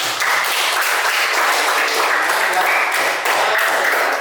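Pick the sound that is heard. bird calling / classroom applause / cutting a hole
classroom applause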